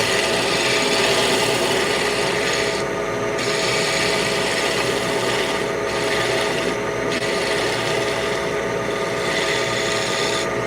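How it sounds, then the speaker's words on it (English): Wood spinning on a lathe is shaped with a round carbide tool, giving a loud, continuous rasping scrape that holds steady for the whole stretch, with only brief dips where the cutter lifts away. "Use the round carbide tool."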